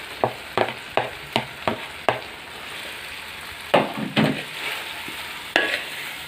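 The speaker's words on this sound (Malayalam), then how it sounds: "ഇനി നമ്മൾ ഫ്രൈ ചെയ്ത് വെച്ചിരിക്കുന്ന ചിക്കൻ്റെ പീസുകൾ ഇതിലേക്ക് ഇട്ട് കൊടുക്കാം." Fried chicken pieces stirred into sizzling Kozhikode biryani masala in a pan: a run of sharp, evenly spaced scraping strokes, then a few heavier clatters over a steady background sizzle, close and without talk.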